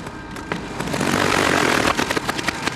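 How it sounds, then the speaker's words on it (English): A boat's outboard motor runs roughly, making horrible sounds: a loud, close, droning engine with uneven sputtering pulses and knocks. "my motor starts making some horrible sounds"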